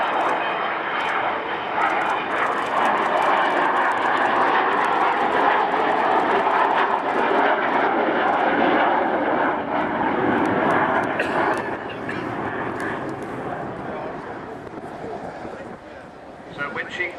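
An Avro Vulcan XH558 bomber flies over the RIAT 2010 airshow, its engines giving a loud, sustained roar that fades slightly toward the end, with a commentator talking over it.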